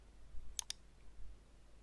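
A computer mouse clicks twice in quick succession, faint and close, on an otherwise quiet background while a GoDaddy email setup is done.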